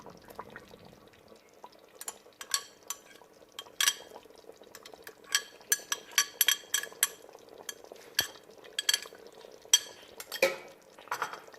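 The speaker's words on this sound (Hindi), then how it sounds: "फ्लेम बिल्कुल लो है, तो हल्के हाथ से हम चम्मच हिलाएंगे" A spoon stirs chicken korma with cream and yogurt in a pan over a very low flame, making a series of light, irregular metallic clinks and scrapes, close and fairly quiet, with a soft simmering bubble running underneath.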